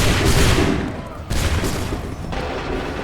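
Musket volleys crack out in the video game Assassin's Creed 3, with three loud, rolling fusillades following one another about a second apart, each a dense burst of overlapping shots.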